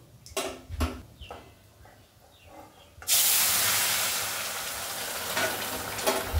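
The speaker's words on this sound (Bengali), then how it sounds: "এবার তেলের মধ্যে রাঁধুনিটা দিয়ে দিচ্ছে।" Radhuni spice seeds dropped into hot oil burst into a loud, steady hiss and sizzle that holds and slowly fades, after a few clanks and stirring knocks.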